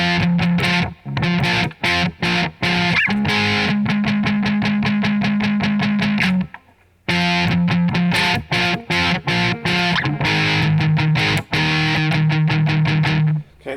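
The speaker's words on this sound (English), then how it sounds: "so the intro kind of sounds like this" Heavily distorted electric guitar plays the intro riff of a song at a slow tempo, with steady chugging strums and sustained chords, a brief pause midway, loud and up close with no voice.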